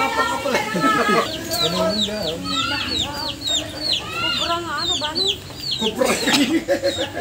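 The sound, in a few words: chickens clucking near a chicken nest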